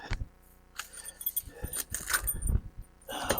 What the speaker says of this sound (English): Let me find the keys.